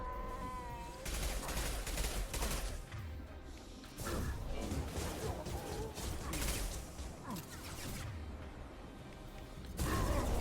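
Weapons fire in the Mass Effect Legendary Edition video game, with bursts of rapid shots separated by short pauses and layered over game effects, fairly dense and close.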